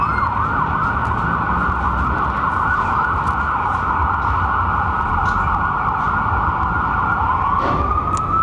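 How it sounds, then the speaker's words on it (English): A loud siren wails continuously close by over the rumble of road traffic, its pitch sliding upward near the end as it passes. "I'm gonna wait for the lovely siren to pass."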